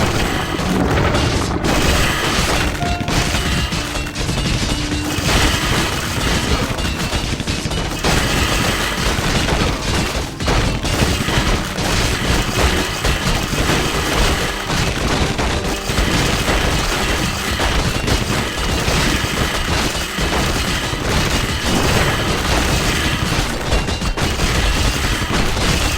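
A strategy video game battle rages with dense, continuous explosions and rapid gunfire, loud booms layered over crackling volleys without pause and no clear voices.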